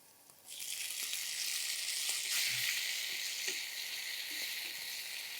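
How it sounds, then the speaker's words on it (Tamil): Onion and tomato sauté in a pan for a Tirunelveli chana dal sambar, making a steady, close, hissing sizzle that starts abruptly and carries on without a break and with no talking. "தக்காளி அந்த தோல் சுருங்குற அளவுக்கு வதங்கட்டும்"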